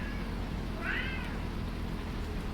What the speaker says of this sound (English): I do have a cat squeaking